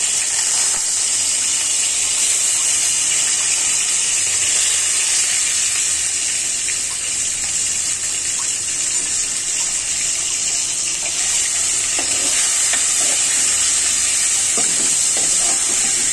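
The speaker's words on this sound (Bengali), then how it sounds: "জিরাগুলো ফুটে গিয়েছে, এই পর্যায়ে আমি আমার মাছগুলো ছেড়ে দিব।" Koi fish go into hot oil with spluttering cumin, producing a loud, continuous hissing sizzle that carries on unbroken, close and without speech.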